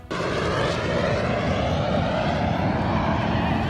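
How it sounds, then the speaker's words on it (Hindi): Rafale fighter jets roar overhead during a French aerial display, a loud, sustained engine rush that swells in abruptly and holds for several seconds with no voices. "आसमान में लहराते इन विमानों का हवाई करतब देखिए।"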